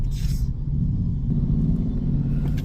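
Road traffic rumbles low and continuous, with a brief hissing swell at the start as a car moves past, heard alone without talk.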